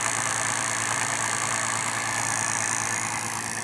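Homemade motor running steadily at about 900 to 1,000 RPM, a constant close mechanical whir with a high whine and low hum, unbroken and alone throughout.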